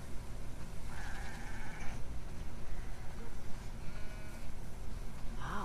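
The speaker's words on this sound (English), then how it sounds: "That's a lot of sheep." Sheep in a barnyard scene in The Last of Us Part II bleat in a few faint, wavering calls spaced through steady background noise.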